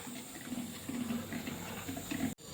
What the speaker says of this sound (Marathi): मी त्यात थोडंसं गरम पाणी घालत आहे